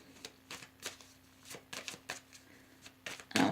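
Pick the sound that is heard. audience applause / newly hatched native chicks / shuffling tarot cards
shuffling tarot cards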